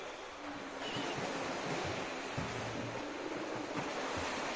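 Children swimming a drill in the water make a steady, rushing wash of splashing that stays dense and fairly loud throughout, with a windy quality and no talking.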